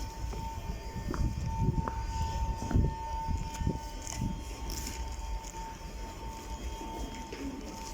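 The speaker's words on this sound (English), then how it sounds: "Oh, this is the southeastern service." Southeastern passenger train at Greenwich station, a steady low rumble of wheels and motors with brief clanks and a faint tonal hum, moderately distant and continuous throughout.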